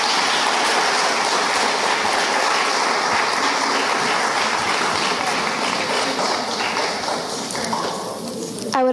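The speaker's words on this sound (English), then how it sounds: "Let's give her another round of applause." Applause from an audience at a Bharatanatyam arangetram, a continuous dense wash of clapping held at a steady loud level throughout before it thins out right at the end.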